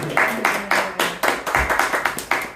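Timid applause from an audience at a talk, a few scattered hands clapping in uneven, separate bursts, close and fairly sparse.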